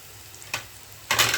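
Semolina is roasted in a pan with browned onion and asafoetida for upma. A short spatula scrape is followed by a longer, louder stirring sweep over a quiet pan.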